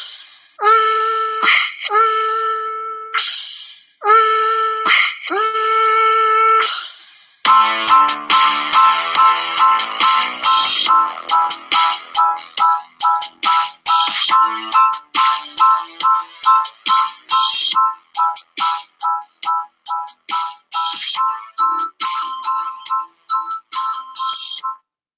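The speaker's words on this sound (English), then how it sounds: "it's always nice to have a little musical interlude" A short musical interlude played during a livestream break: bright, chiming tones in separated bursts at first, then a busy, rhythmic run of rapid plucked notes that gradually thins out, with no talking.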